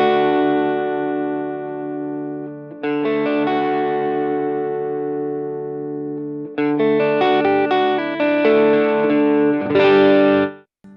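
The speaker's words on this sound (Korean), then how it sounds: "이게 9 모드에서 808 모드로 바꾸게 되면 좀 개인적으로는 소리가 더 힘있게 뻗어나오는 것 같아요." Electric guitar runs through an Aura TubeShort overdrive pedal in its 808 mode, giving a thick driven tone: a long sustained chord decays, then a second strum rings, followed by a brisker run of picked chords, close and alone.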